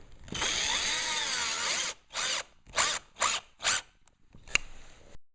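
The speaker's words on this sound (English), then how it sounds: "I'm going to take my drill and I'm just going to put in 2 screws per" A power drill drives screws into a 2x4 board for a shop extension cord caddy: one long whirring run, then four short bursts and a final brief zip, close and loud with no talking.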